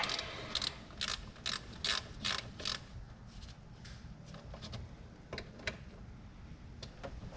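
A ratchet tightens screws into plastic inserts on the air filter housing of a 2012 Audi R8 V10, in quick bursts of close, crisp clicking separated by short pauses.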